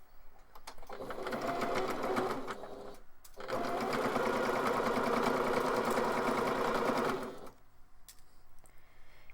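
A home sewing machine stitches the seams of a fabric face mask in two long steady runs, a close, even mechanical whir that pauses briefly in between and stops near the end.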